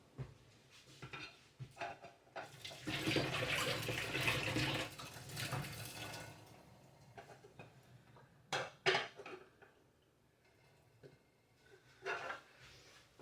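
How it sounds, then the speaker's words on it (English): Cooked potatoes with their peels on being drained in a kitchen sink, with a steady rush of water and clattering of a pot for several seconds, followed by scattered knocks and splashes. "I am going to drain them. Take them and drain them."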